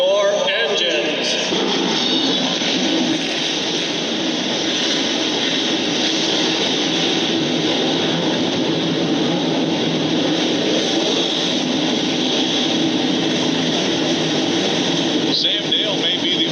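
Race car engines fired together on the starting grid of the Lucas Oil Slick Mist 200 at Daytona International Speedway in 2009, a loud, dense, continuous roar filling the air for the whole stretch, with a crowd and announcing voices mixed underneath.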